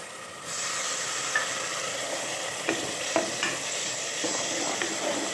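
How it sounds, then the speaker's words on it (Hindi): Steady sizzling of masala spices frying in a pot for chicken shorba, with occasional scraping and stirring clinks over the continuous hiss. "अब इसको अच्छी तरह भून लेते"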